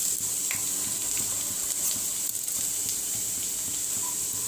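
Chopped garlic and dried Kashmiri chillies fry in hot oil with a steady, close sizzle and hiss, continuous and without talking.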